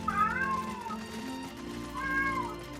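Cat meowing in Final Fantasy XIV, two distinct loud meows about a second and a half apart over soft game background sound.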